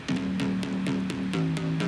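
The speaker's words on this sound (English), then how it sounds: "It's a simple bounce bass" A grungy, punchy synth bounce bass from a Serum patch pulses in a repeating rhythmic pattern with a bright attack on each hit, subdued and slightly wide, heard alone.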